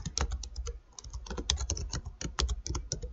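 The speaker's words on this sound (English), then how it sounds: "Type out your word." Steady, fast typing on a computer keyboard, close up, with a dense run of sharp clicking keystrokes and a few heavier thumps, continuing throughout without any talk.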